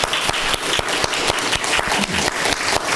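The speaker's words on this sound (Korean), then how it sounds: "우리 축하의 박수 한번 할까요?" A church congregation applauds in celebration of a new member, a dense burst of many hands clapping steadily and fairly close throughout, with no talk over it.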